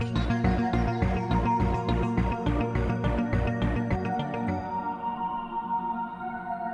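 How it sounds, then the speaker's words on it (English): Synth arpeggios doubled by a spacey pad patch, rhythmic pulsing notes over a steady low pulse for about four seconds before the pulse drops out and a sustained, washy pad tail lingers. "we double these arps,"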